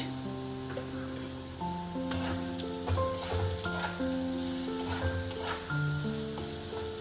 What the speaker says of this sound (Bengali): লবণ হলুদটা নাড়িয়ে নিলাম